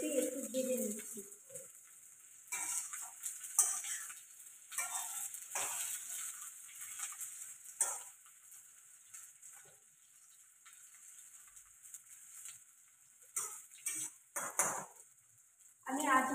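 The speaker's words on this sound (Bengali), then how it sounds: "সেই জন্যে ফুলকপিটা একটু আমি বেশি একটু ভেজে নিচ্ছি" Cauliflower pieces fry in an oily pan with a steady, hissing sizzle, broken by occasional clinks and scrapes as they are stirred; faint bird calls sound in the background.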